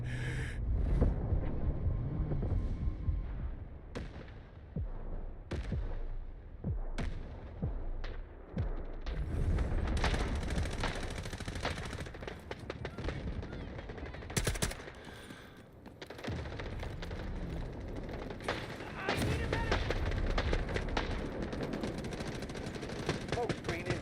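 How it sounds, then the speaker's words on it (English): Artillery fire in the video game Delta Force, with repeated loud booming blasts and rattling gunfire spread across a dense, chaotic battlefield mix. Voices speak over the din at times. "Artillery."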